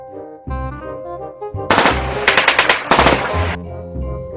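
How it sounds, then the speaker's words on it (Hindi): A cartoon Sten gun fires a rapid burst of sharp, loud rattling shots, several clustered cracks in quick succession over a background music bed, in an animated Chacha Chaudhary adventure. "यह स्टेन गन एक साथ 50 गोलियां दागती है।"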